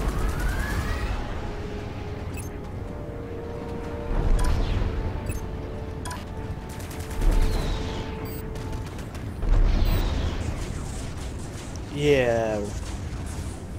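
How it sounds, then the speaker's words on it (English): Rocket pods fire repeatedly in the space combat game Strike Suit Zero, a series of whooshing launches and mechanical bursts amid engine noise, with someone talking over the action. "Just wasting all my rocket pods."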